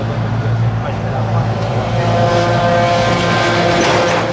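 A Tomahawk moped engine drones loudly and steadily close by as it rides past, its buzzing tone continuous throughout with faint voices underneath.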